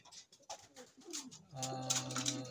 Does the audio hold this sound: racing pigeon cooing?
yes